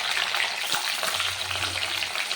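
Hot oil erupts in a loud, dense sizzle and spatter as tomatoes hit the pan, a close, continuous frying roar with crackling bursts and no speech.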